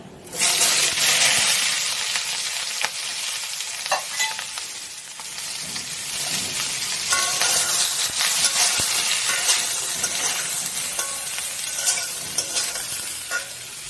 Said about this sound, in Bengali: ভাপানো ফুলকপি আর আলুটা আমি ভেজে নেব।